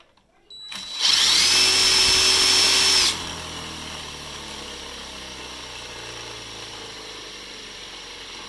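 A spinning rotor on a bucking-coil motor rig gives a loud, high whine that cuts out abruptly, then falls to a quieter hum that winds steadily downward in pitch as the rotor slows.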